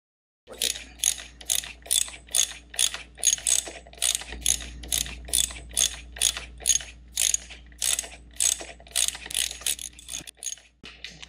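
A ratchet wrench clicks rapidly on the primary drain plug of a Harley-Davidson Road Glide, with a long even run of close, sharp mechanical clicks before stopping; no one speaks.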